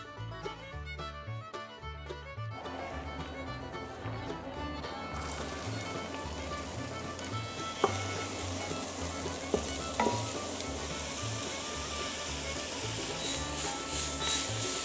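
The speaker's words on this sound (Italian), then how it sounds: "Vi accorgerete che potrete aggiungere il vino quando il suono del soffritto cambia." Soffritto frying in hot oil in a saucepan, a steady bright sizzle that swells louder after a few seconds and keeps crackling close up, with occasional clinks and no talking.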